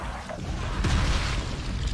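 An exploding zombie in the video game Dying Light bursts in a single loud boom about halfway through, followed by a dense rumbling tail with no speech.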